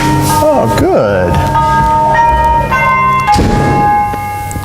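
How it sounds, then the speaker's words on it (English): A doorbell chime rings out in several sustained, overlapping tones, close and fairly loud, with a brief wavering voice-like whine at the start. "Knock on the door, ring the doorbell."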